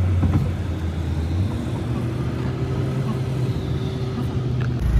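Car engine running in a parking lot in Delhi, a steady low vehicle rumble throughout with a brief louder rise near the start and a few small clunks, fairly close.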